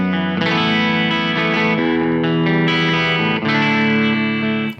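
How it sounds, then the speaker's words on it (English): Electric guitar with a humbucker pickup, from an Elemental-series instrument with a spring tremolo, played through distortion and chorus effects. Sustained chords ring loud and close, alone, changing a few times before cutting off at the end. "it's a nice sounding humbucker though."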